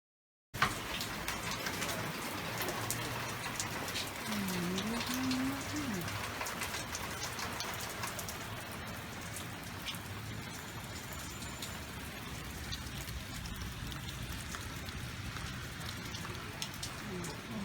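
Steady rain patters down outside, a constant hiss of drops on surfaces, with a person speaking briefly early on.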